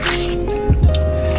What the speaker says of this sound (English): It's pouring in the cup with hot Cheetos.